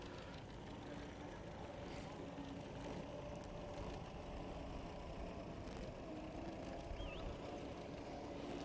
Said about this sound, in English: that's an utterly characteristic sound of a Fordson gearbox